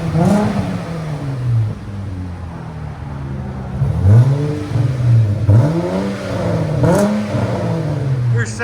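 A 2013 Dodge Charger AWD with a 3.6L V6 and FLO 409 exhaust, revved in repeated sharp blips that rise and fall, loud and close, with a few brief pauses between pulls.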